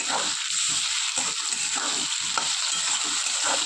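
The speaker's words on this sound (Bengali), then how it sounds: "দিয়ে আদা রসুনের কাঁচা গন্ধটা চলে যাওয়া অবধি কষিয়ে নেব" Ginger garlic paste frying with browned potatoes and onions in a pan, a steady loud sizzle with a bright hiss throughout and soft scraping of stirring underneath.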